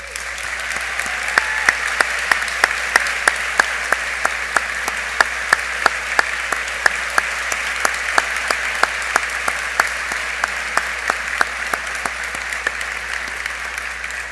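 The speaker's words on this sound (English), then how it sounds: "So please join me on behalf of everyone in our class in a big round of applause for Dr. Barry Berg." Sustained applause from a large audience fills a commencement ceremony hall, dense and even throughout with sharp individual claps standing out, loud and steady without a break.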